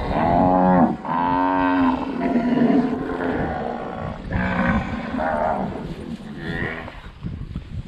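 Cows low loudly and close in a pasture, several long drawn-out moos following one another, with softer bellows and shorter calls after them.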